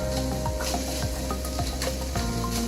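Small tomatoes going into a hot pan of mushrooms and onions, a loud continuous sizzle close up with rhythmic stirring and scraping strokes, no voices.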